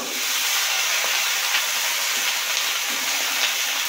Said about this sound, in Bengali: কপিটা দিয়ে নাড়াচাড়া করা হচ্ছে।